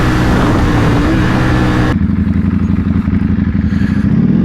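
A Ducati Panigale V4S motorcycle engine running close and loud, a rough buzzing drone that drops abruptly to a lower, pulsing idle-like rumble partway through.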